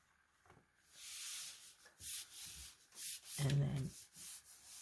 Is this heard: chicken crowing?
no